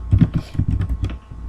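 Fingers tap rapidly on a computer keyboard while a table is set up in MySQL Workbench, a quick irregular run of close clicks.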